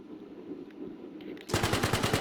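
Rapid machine-gun burst fired from a vehicle in the military video game Arma, a loud, evenly pulsing stream of shots that starts abruptly partway through after quieter engine rumble.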